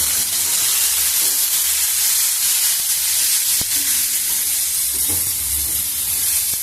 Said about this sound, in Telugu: ఈ బీరకాయని కూడా వేసేద్దాము కొంచెం నిదానంగా బాగా కలిపేద్దాము